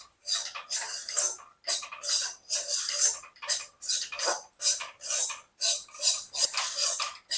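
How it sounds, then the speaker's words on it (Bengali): A spoon scrapes wheat flour as it roasts in a dry pan, making rhythmic, close, bright scratching strokes about twice a second with no other sound. "5 থেকে 7 মিনিট ধরে আমি এই আটাটাকে একটু ভেজে নেব।"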